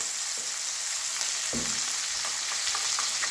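Chopped vegetables and beans sizzle steadily in a wok with black cumin and dried red chili, a continuous close frying hiss with faint stirring scrapes.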